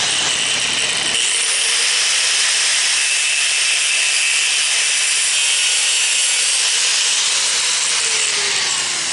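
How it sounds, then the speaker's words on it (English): A high-pitched power tool grinds steadily, cutting and drilling a small part, loud and close, starting abruptly and running without pause. "So I'm going to cut that off and drill a little hole through it"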